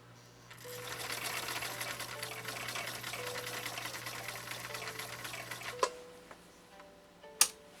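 A 1960 Viking Husqvarna CL-21A sewing machine runs a straight stitch with a steady, close mechanical whir and fine ticking for several seconds, then stops, leaving a couple of sharp clicks.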